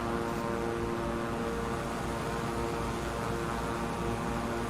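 Steady, droning propeller-aircraft engine idling at low power in Flight Simulator 2020, a continuous loud hum with no speech over it.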